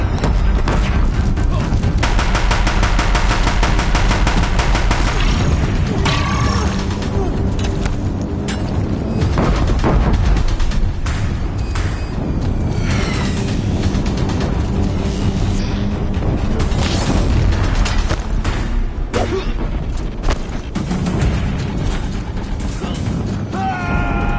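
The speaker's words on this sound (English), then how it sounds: "If the Deathbringers keep firing, this bridge will go" In Horizon Zero Dawn, Deathbringer machines keep up dense, loud heavy gunfire with booming impacts and crashes in a constant battle roar, while a voice speaks at times over the noise.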